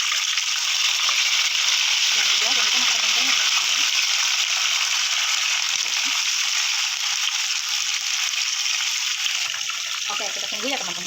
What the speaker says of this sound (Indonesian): jangan lupa kita goreng ya tempe tahu terongnya teman-teman ya